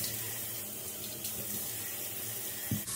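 Hot water pours steadily from a tap into a bathroom sink, a close, continuous rushing splash that barely changes in level.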